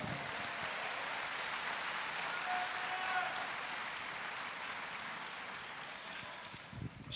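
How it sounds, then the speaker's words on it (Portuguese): A church congregation applauds, a steady, fairly faint wash of clapping held evenly throughout, heard from a distance with no talk over it. "Pode aplaudir."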